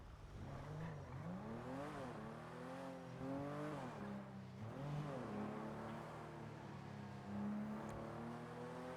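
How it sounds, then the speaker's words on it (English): A car in GTA V on the NoPixel server speeds along with a loud engine that revs up and down in repeated swells, holding a steady roar with no talking. "Kind of sounded like a speeding car."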